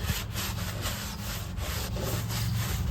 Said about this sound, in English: And get this rubbed up on the grill. Get this nice and greased.